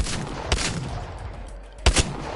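Gunfire from a bolt-equipped weapon in Apex Legends: loud close shots with sharp attacks, two spaced single reports followed by a quick double burst near the end, no talking.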